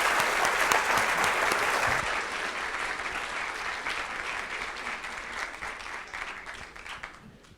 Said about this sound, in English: join me in giving a round of applause to Farah.